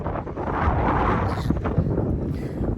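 Steady wind roars and buffets the microphone at a glass walkway high above water in South Korea, a constant rushing noise with occasional gusty thumps and no voices.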